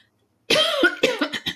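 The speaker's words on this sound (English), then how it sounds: "My goodness, I have a cough and I can't get rid of it." A person coughs several times in a short burst, a harsh close-up cough followed by a few quicker hacking coughs, alone with no talking.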